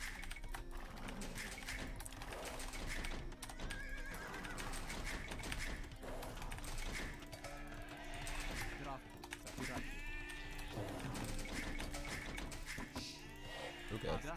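Sheep bleats and horse whinnies ring out in an Age of Empires style medieval strategy battle between Slavs and Ethiopians, several short calls scattered over a busy, continuous game soundscape.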